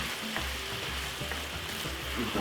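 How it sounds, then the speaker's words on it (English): Beef stir fry with oyster sauce sizzling in a hot pan for a Caribbean pepper steak, a constant crackling hiss with low rumbling scrapes as it's stirred. "This beef is a quick stir fry, so it's not too long to cook."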